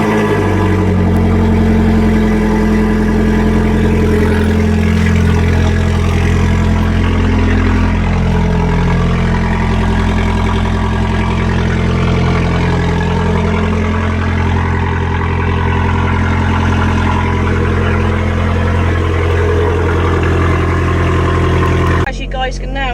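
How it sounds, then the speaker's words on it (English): A modified Abarth fitted with a sports cat and Record Monza exhaust idles loudly and steadily just after a cold start, its deep drone holding close and even for over twenty seconds before a brief disturbance at the end. "As you guys can now hear, the car is now very obviously turned on."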